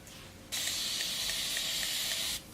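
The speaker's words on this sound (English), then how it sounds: "Spray my hair," A single steady burst of fine spray hissing from a spray bottle onto curly hair, lasting nearly two seconds, close and fairly loud, with quiet before and after.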